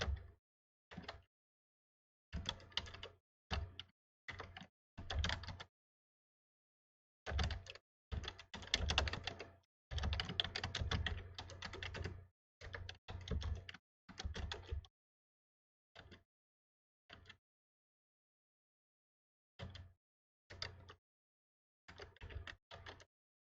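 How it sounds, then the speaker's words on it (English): Bursts of keystrokes on a computer keyboard while entering label text in embroidery digitizing software, close and fairly quiet, coming in irregular clusters separated by pauses, with no one talking. "we are going to type our text that we want to add to our label"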